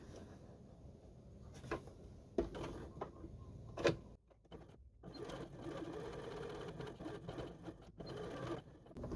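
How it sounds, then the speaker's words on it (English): A Janome JW8100 sewing machine stitches a gap closed, a steady close mechanical whir running almost the whole time with brief pauses and small clicks near the start. "I'll just go ahead and sew the gap closed"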